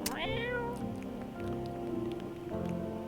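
A cat in a video game meows once, bright and close, over a steady soft patter like rain that continues throughout, with a second fainter cry near the end.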